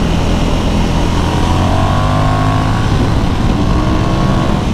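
A Ducati Monster 1100 Evo twin-cylinder motorcycle engine drones loudly and steadily with a deep low rumble, its pitch rising slightly as it accelerates.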